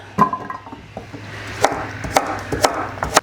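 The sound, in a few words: cutting garden vegetables into rustic chunks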